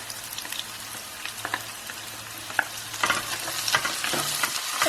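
Ginger garlic paste and onions sauté in a pot, giving a steady soft sizzle with scattered stirring scrapes and clicks that grow a bit busier toward the end, with no talking.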